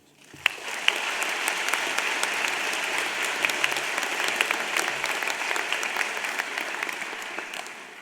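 Steady audience applause fills a university commencement hall in Toronto as a speaker is welcomed, a dense, even clapping that swells quickly and holds at full strength throughout.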